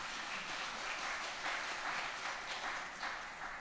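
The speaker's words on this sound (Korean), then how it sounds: "박수하겠습니다" A church congregation applauds to welcome a visiting missionary during a Korean Sunday worship service, a steady wash of clapping lasting a few seconds at modest volume, with no one talking over it.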